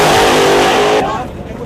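A brand-new race car on its first real lap roars past close by with a loud, high engine note that drops away sharply as it passes, with voices under the engine.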